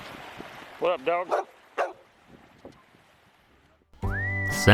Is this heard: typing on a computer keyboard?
no